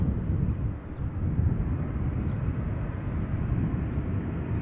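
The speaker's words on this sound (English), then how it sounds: "Air France A220-300 or Bombardier C series arriving from Paris, Charles de Gaulle, flight 1340." An Air France Airbus A220-300 airliner arrives at Schiphol Airport from Paris Charles de Gaulle, its engines a loud, steady, broad roar with low rumble that holds without a break and no voices.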